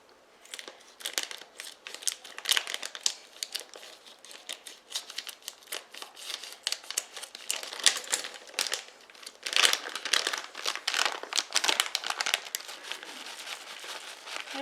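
A crinkly plastic bag of coconut is worked open, giving a close run of rustling and crackling crinkles with irregular bursts and no voices.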